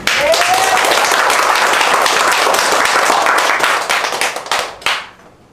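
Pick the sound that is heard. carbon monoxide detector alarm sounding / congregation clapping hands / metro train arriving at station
congregation clapping hands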